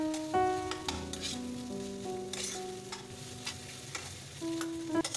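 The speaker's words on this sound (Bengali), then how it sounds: "এটা এরপর 5 মিনিট মতো ভালোভাবে একটু নাড়িয়ে চাড়িয়ে ভেজে নিতে হবে।" Spiced potato dosa filling with tamarind water and roasted peanuts frying in a pan, a close sizzle under repeated scraping and stirring strokes, with faint metallic clinks and no talk.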